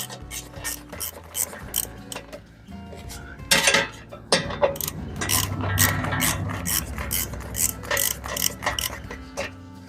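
Rapid ratchet clicks and metallic clatter of tools while a skid plate is unbolted from under a vehicle for an oil change, bursts of close ratcheting with clanks of loose parts and occasional talk.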